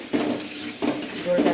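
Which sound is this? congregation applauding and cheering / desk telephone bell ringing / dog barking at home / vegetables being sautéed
vegetables being sautéed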